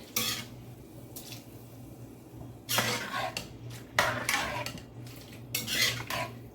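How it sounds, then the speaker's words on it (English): A utensil scraping and clinking against a pot in repeated stirring strokes as coconut milk is stirred into ginger stew chicken, close by, with a low hum in the background. "And just stir it in."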